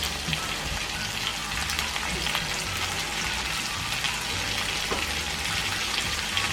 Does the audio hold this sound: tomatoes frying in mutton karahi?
yes